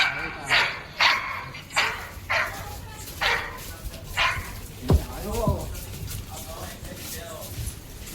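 Dogs bark in short repeated bursts at a moderate distance, with occasional yips, while people talk over and around them throughout.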